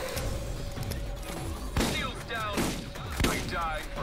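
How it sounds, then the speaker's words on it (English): Enemy gunfire aimed at the player in Borderlands, with bursts of rapid shots and bullet impacts cracking over a steady game soundscape, loud and close in two main volleys. "why are you shooting me?"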